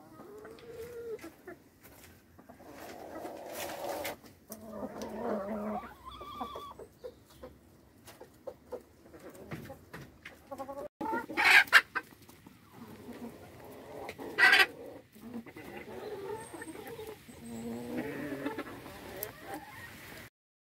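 Chickens and a young rooster on a rural smallholding cluck in short, scattered bursts over roughly twenty seconds, moderately near with some louder peaks, amid rustling and background farmyard noise.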